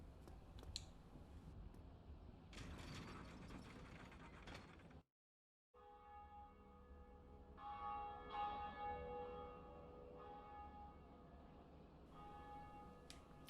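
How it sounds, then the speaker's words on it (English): The first Bell of Awakening rings in Dark Souls: clanking mechanisms and gears churn, a brief silence falls, then resonant bell tones sound with metallic ringing overtones. "It's time to ring, however, the first bell of awakening."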